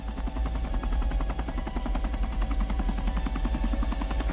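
A military special forces helicopter in a film thumps with rapid, rhythmic rotor beats over a low rumble, steady and moderately loud throughout.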